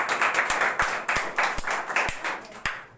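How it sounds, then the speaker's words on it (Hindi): A crowd claps for a student being honoured with a prize at a speech gathering. The applause is dense and rhythmic, with regular sharp beats running through it, and fades slightly at the end. "इनके लिए जोरदार तालियां विद्यार्थी"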